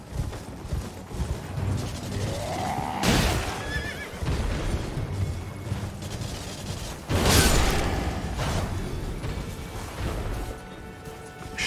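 Horses whinny in the video game Elden Ring amid combat, two loud shrill neighs several seconds apart over clattering hooves, impacts and game effects.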